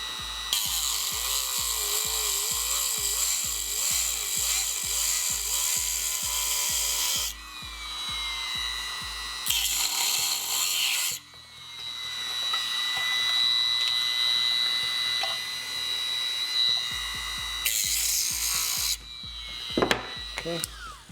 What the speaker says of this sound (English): get the bottom with the Dremel.